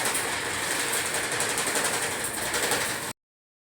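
Creon inkjet printer running a nozzle check print after a head cleaning, giving a steady, continuous mechanical whirr with fine rhythmic clicking that holds evenly for about three seconds and then stops abruptly.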